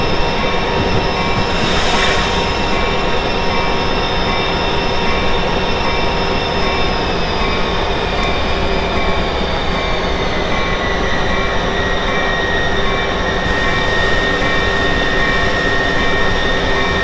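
Train at Newark Penn Station on the Northeast Corridor, a loud continuous rumble with wheel squeal and a brief high screech near the start, heard close with no talk.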